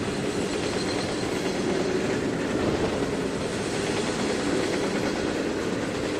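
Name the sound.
train running on track in Trainz 2019 video game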